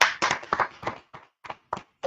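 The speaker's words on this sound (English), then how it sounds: "let's clap it up." Audience clapping at a Bible class, a short run of about eight claps that start dense and thin out into separate, evenly spaced single claps.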